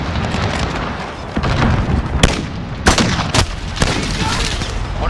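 A grenade goes off in a first-person shooter video game, a heavy boom among scattered gunshots and sharp cracks, loud and close, with voices talking over the fight.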